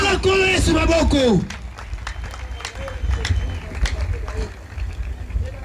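A church congregation applauding and cheering, a sustained mix of scattered claps and crowd noise that follows a spoken call from the front.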